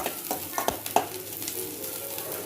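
Paneer and cauliflower frying in a pan, a continuous close sizzle broken by a few sharp spatula clinks and scrapes early on, with no voices.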